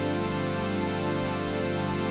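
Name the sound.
synth chords with sawtooth wave tone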